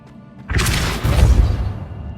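The Depulso spell is cast in the video game Hogwarts Legacy, a sudden loud whooshing boom that rises sharply and then rumbles on with a low, heavy tail.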